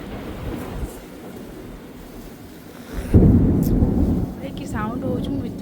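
A thunderstorm brings steady heavy rain with a rumbling burst of thunder midway that lifts the level and lingers, while a voice speaks briefly near the end.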